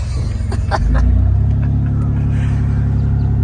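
A 3rd gen Toyota 4Runner with a solid axle swap and locker trouble rumbles through a slow burnout, the engine load rising after a second into a steady loud low drone with one wheel spinning.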